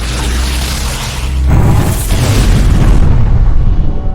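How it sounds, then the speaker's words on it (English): A film explosion as a final explosive detonates against a creature aboard a space station: a sustained loud roar that swells into a heavier, deeper booming blast midway and rumbles on to the end. "With the last of her strength, she fights back, wrestles free, and detonates the final explosive"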